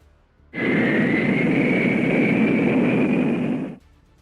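A Marine Fighter Attack Squadron 115 F-4B Phantom jet, loaded with 12 bombs and a centerline drop tank, taxis out for takeoff. A loud, steady engine roar starts abruptly, holds for about three seconds, then cuts off.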